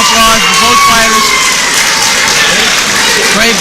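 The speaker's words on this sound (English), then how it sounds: "Let's give a huge round of applause for both fighters" Crowd at a fight night boxing event applauding both fighters after a bout ends, loud sustained clapping and cheering with shouts, close and dense throughout.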